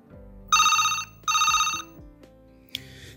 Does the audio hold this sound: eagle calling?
no